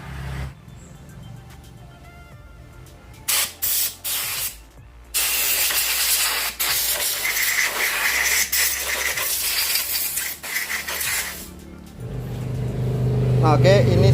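Aerosol brake cleaner sprayed onto front disc brake parts while repairing a spongy, failing front disc brake: a few short hissing bursts, then a long steady spray hiss up close.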